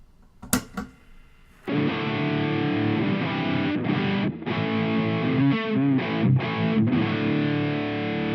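An electric guitar plays with heavy distortion through an Engl Gig Master 15 amp into a 4x12 cabinet impulse response, loud sustained chords ringing with brief breaks after a few sharp plucked notes at the start.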